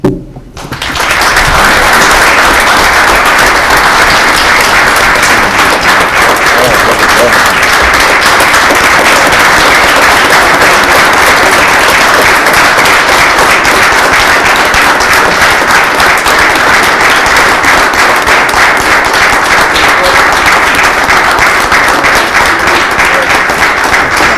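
Sustained applause fills a township board meeting, honoring the families of fire service members; dense, loud clapping from a crowd continues steadily with no talk throughout.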